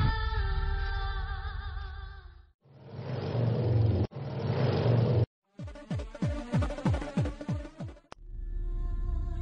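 A motorbike engine idles with a steady hum and then revs in a series of rising, rapid surges, heard close in choppy, abruptly cut segments.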